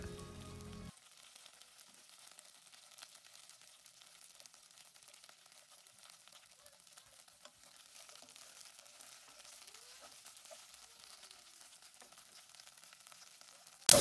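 Okra sautés in a pan with a soft, faint, steady sizzle that runs continuously and is heard alone.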